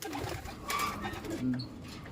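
A pigeon coos softly a couple of times, close by, over a quiet background with faint ambient noise.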